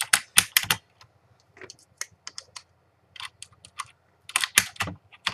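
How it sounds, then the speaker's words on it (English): Keycaps are pried off an OCN Ducky mechanical keyboard with Cherry MX Blue switches, giving sharp, close plastic clicks and snaps in irregular clusters with quiet gaps between them. "I'm pulling some keycaps here to give you a good view."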